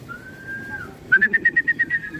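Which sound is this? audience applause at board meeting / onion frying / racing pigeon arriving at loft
racing pigeon arriving at loft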